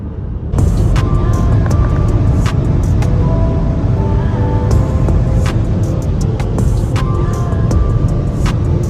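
A car cruising at high speed on a German motorway, with a loud, steady roar of engine, tyre and wind noise filling the cabin and brief ticking clicks scattered over it.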